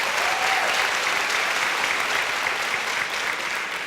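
An audience at a school district convocation bursts into dense, sustained applause that fills the hall evenly for several seconds.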